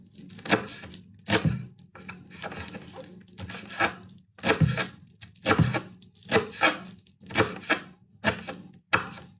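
Repeated knife chops through spinach on a cutting board, about a dozen sharp strikes in an irregular rhythm, close up with a low hum underneath.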